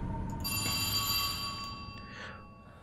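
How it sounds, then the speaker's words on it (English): A telephone rings in the At Dead Of Night video game with a bright, trilling bell tone that sustains and then fades. A low ambient hum sits underneath. "Okay, phone is ringing."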